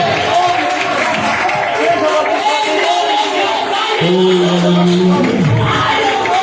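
Congregation at a Sunday church service applauding, a steady broadband wash of clapping mixed with shouted praise and crowd voices throughout, with a sustained tone entering near the end.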